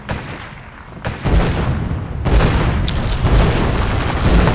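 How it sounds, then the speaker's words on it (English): Heavy booming keelboat cannon blasts in the video game GUN, a couple of deep thuds over a continuous rumble of battle noise, loud and close. "Get on that keelboat cannon and blast those boats."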